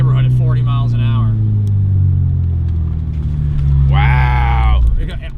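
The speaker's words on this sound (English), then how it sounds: "I love driving the Integra Type R" A Honda Integra Type R's engine drones steadily through a corner taken at about 40 mph, then surges in a louder rise near the end, with voices talking over it in the cabin.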